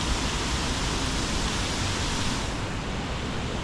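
A river current rising and rushing during a flood, heard as a loud, dense, unbroken roar of turbulent water close by, steady throughout with no voices over it.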